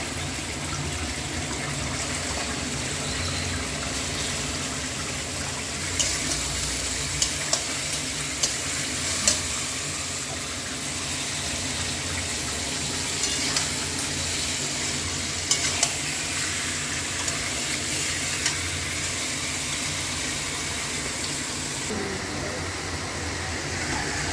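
Chicken sizzles steadily in spice paste in a large wok while a utensil scrapes and clinks now and then, with a faint low background hum.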